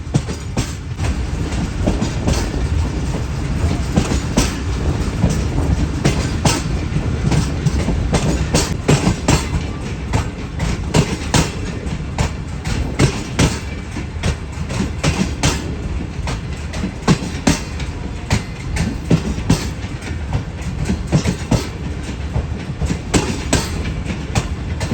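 The Shalimar Express train rumbles along with rhythmic clickety-clack of wheels over rail joints, loud and close, heard from inside an old parlour car approaching Bahawalpur railway station, the steady clatter continuing throughout.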